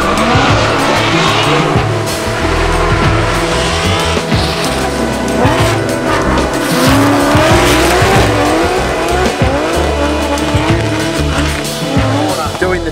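An RTR Spec 5D drift car's engine roars loudly and steadily while tires squeal and screech throughout at the Leadfoot Festival 2020, with a voice talking underneath.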